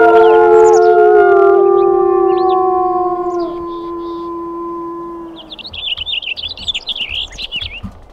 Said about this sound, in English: Give it a good couple of howls